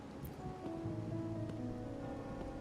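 Steady rain falls across a quiet scene in the game Wuthering Waves, a dense even hiss with soft patter, while faint tonal music hums underneath.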